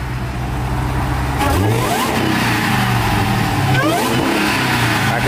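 A Chrysler 300C engine with a deleted mid-muffler runs loudly nearby with a high whine riding over the rumble, rising and falling as it revs.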